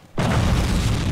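A loud, sudden explosion from the World War II shooter Forgotten Hope 2 hits with a sharp onset and a heavy, sustained rumbling roar across the whole short stretch.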